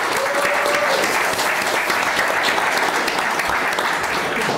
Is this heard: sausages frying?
no